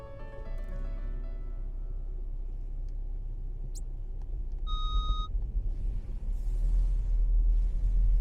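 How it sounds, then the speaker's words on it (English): A car horn beeps once, a brief two-tone honk from a driver behind on a snowy winter street in Tallinn, Estonia, heard over the constant rumble of the car's engine and road noise. "Somebody's behind me, so we got a beep."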